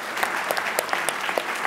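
Steady applause from a crowd, dense overlapping claps at an even level with a few sharper nearby claps standing out.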